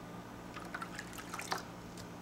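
Water collected from a dehumidifier poured onto worm bedding, giving soft, faint drips and light trickling patters at close range with no talk.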